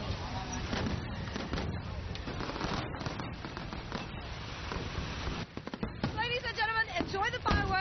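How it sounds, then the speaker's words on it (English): Fireworks closing a Li ethnic festival celebration on the third day of the third lunar month in southern China, a dense run of booming and crackling bursts with whistling rockets near the end, loud against crowd noise. "Enjoy the fireworks, because this marks the end of the celebration."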